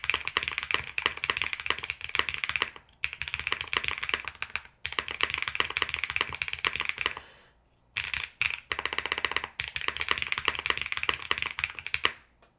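Fast typing on a Womier SK71 Pro mechanical keyboard, its foamy stock switches clacking close and steady in long bursts, with a few short gaps between runs.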